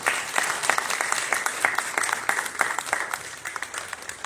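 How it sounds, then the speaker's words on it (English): Applause from a large audience at a community safety summit held at a hospital in the Bronx, dense and continuous clapping with a few sharper claps standing out, filling the whole stretch. "So please give yourselves an applause because you deserve"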